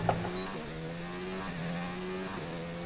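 A Formula 1 car engine in the F1 2019 racing game holds a high, sustained whine with rising and dipping pitch as it accelerates and shifts, heard steadily at moderate loudness with no talk over it.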